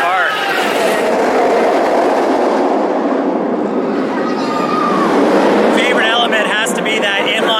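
A B&M inverted roller coaster at La Ronde roars past, its train rumbling loudly and continuously with a broad rushing noise, and a brief higher whine near the end.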